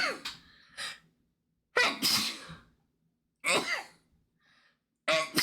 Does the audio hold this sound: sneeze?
yes